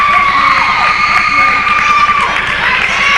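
A crowd cheers and shouts loudly at a close girls' high school basketball game in a gym. The cheering is continuous and mixed with whoops and children's yells, while sneakers squeak on the court.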